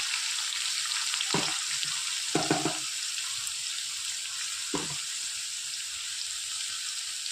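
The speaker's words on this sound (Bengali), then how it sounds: "আলুও হালকা লাল করে ভেজে নিয়েছি, দিয়ে দেবো পরিমাণ মতো হলুদ।" Lightly browned potatoes fry in a pan as turmeric goes in, producing a constant close hiss of sizzling oil broken by a few brief scrapes from a spatula.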